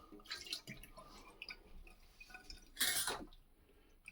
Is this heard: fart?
no